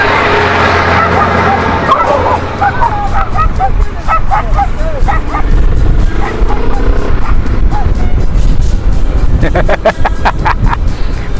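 A dog barks repeatedly from a window as a motorcycle rides past on a mountain road, the yapping loud and close over steady engine and wind noise.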